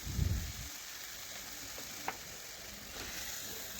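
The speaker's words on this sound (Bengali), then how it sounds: "এখন বেশ কিছুক্ষণ একটু মশলাটা কষিয়ে নেব।" Spice paste frying in a pan with a splash of water and salt, a soft, low sizzle with a brief clatter at the start and a small scrape of stirring midway.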